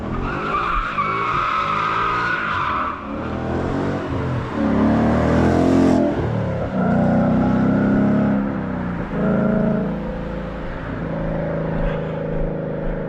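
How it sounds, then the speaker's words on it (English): Ford Mustang skidding with squealing tires outdoors at night, a loud sustained screech with shifting pitch and engine roar lasting several seconds before fading. "that was a Mustang"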